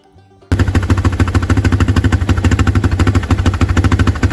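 A Yamaha Big Bear ATV engine catches after a brief quiet moment and runs loudly and close, with a rapid, steady chugging idle that continues to the end.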